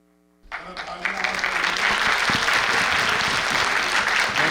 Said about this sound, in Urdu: ذرا تالیاں اور بجا لیجیے۔